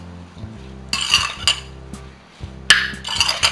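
A spoon stirs strawberries with caster sugar in a bowl, giving repeated scraping clinks of metal against the dish in uneven bursts, close and fairly loud, with a steady low hum underneath.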